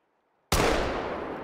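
A single loud rifle shot from a hunting game, opening with a sharp crack after near silence and then a long, rumbling decay; no one speaks.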